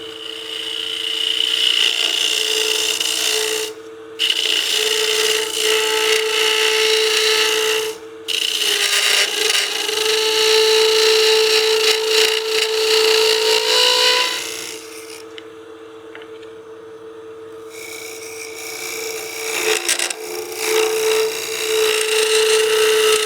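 A woodturning gouge cuts into a spinning wooden pot on a lathe, giving a steady rasping scrape with a constant hum beneath. Two brief gaps interrupt it, and the cutting softens for a stretch before building back up.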